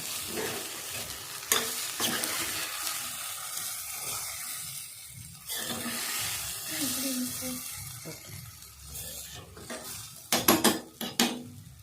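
An egg omelet frying in a pan over a low flame, stirred and turned, with a steady sizzle, repeated scraping and a few sharp utensil clinks near the end. A voice speaks over it at times.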